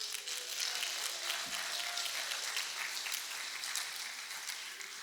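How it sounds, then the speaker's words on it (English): An audience at the 2017 Derby mayoral debate claps steadily throughout, a sustained, fairly faint wash of applause heard from a distance in a hall. "Go ahead and cheer."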